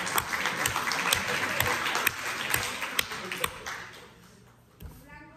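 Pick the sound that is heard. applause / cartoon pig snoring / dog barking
applause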